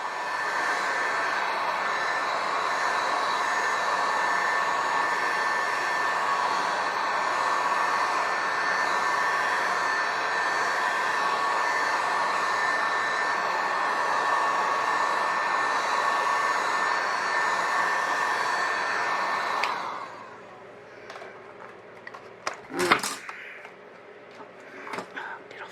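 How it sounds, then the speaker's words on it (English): A heat gun set on low blows over a resin sign with a steady, close airy roar and motor whine for about twenty seconds, then switches off, leaving quiet room tone with a few clunks. "It's my heat gun."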